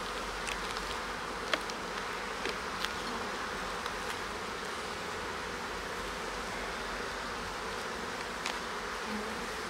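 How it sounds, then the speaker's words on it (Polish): A steady, dense hum of many honeybees buzzing close by at a hive, with a few brief clicks and rustles over the drone. "Naprawdę dzielne pszczoły"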